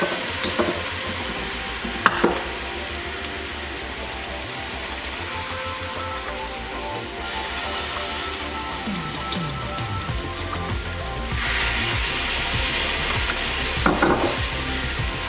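Sliced pork belly sizzles in a hot pan as a glaze of maple syrup and fish sauce is stirred in, a steady frying crackle broken by occasional sharp utensil scrapes and clinks.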